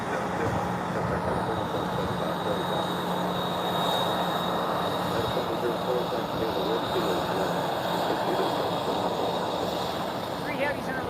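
An Airbus A321 airliner passes with a steady, loud jet roar that holds at an even level for about eleven seconds, a broad continuous rumble with no breaks.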